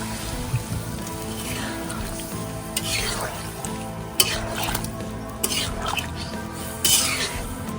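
Spiced water hits frying masala in a pan for a Tamil-style bat fish curry, raising a hissing sizzle mixed with stirring scrapes and light clinks of the pot, with faint voices in the background.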